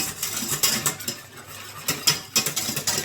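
A spoon or whisk stirs thickening pastry cream in a metal pot nonstop, producing steady clinks and scrapes against the pan with sharper knocks now and then, close and fairly loud.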